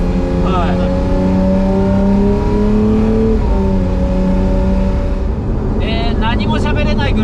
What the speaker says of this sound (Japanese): 何も喋れないぐらい風の音とエンジン音、まあエンジン音がメインですけど、まあ気持ちいい音します